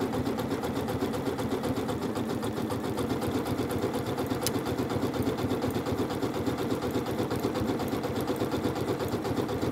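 A Janome sewing machine with a circular attachment stitches continuously in a steady, rapid mechanical rhythm, close and even throughout, with no talking.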